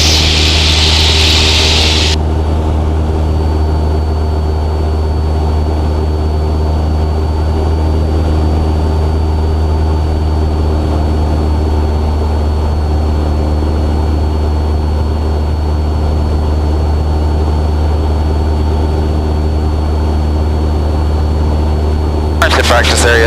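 Steady loud drone of a Cessna 172R light aircraft engine and propeller in cruise flight over the Sourlands ridge at 2,500 feet, heard from inside the cockpit, with a constant low hum and a brief hiss at the start.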